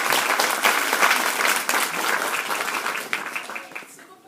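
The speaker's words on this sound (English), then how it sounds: "So just a round of applause for them." A theatre audience gives a steady, full round of applause for the production's helpers, dense clapping that fades slightly toward the end.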